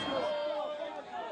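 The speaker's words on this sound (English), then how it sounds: "A crowd so loud, you could barely hear the loudspeakers." A large rally crowd in front of Vancouver City Hall roars and chatters in a dense, continuous wash of voices, loud and close, before cutting off abruptly.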